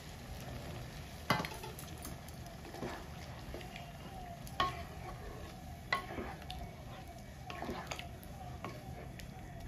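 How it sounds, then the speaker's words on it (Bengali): Coconut milk is poured and stirred into a simmering prawn curry in a pan, with soft bubbling and a few scraping spoon strokes against the pan under quiet talk. "এবার আমি দুধটা দিয়ে দিচ্ছি।"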